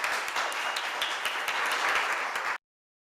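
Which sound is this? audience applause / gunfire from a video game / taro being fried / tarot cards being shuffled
audience applause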